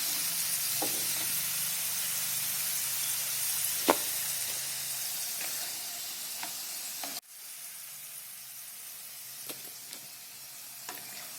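Pieces of suran (yam) shallow-fry in hot oil with a continuous crackling sizzle, punctuated by a few sharp clicks from turning them, the frying softening briefly after a sudden drop partway through.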